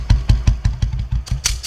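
A motorcycle engine chugs in a steady, close pulsing rhythm, slowing and sputtering as the bike is eased to a stop by the roadside, with a brief hissy burst near the end.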